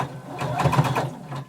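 A sewing machine stitches slowly over a thick belt loop on a Simplicity #1283 garment, giving a close, steady mechanical whirring with a rapid needle rhythm that lasts the whole moment.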